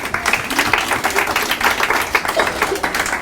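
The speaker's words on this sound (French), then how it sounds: "je demande d'ailleurs d'applaudir très fort pour son initiative." Audience at a Rosh Hashana and Yom Kippour religious lecture applauding loudly, a dense, steady wash of many hands clapping with a murmur of voices underneath.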